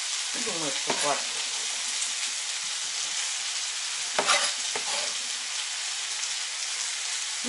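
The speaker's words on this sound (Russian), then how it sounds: "Мясо жарится 5-10 минут." Meat with homemade onion sizzles steadily in an oiled pan, a continuous close frying hiss with a few brief stirring clatters, no voices.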